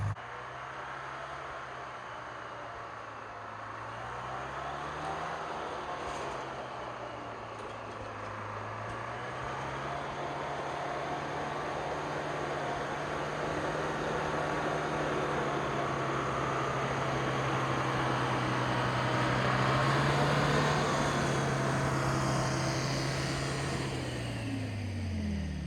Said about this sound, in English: Well, the skidder's running.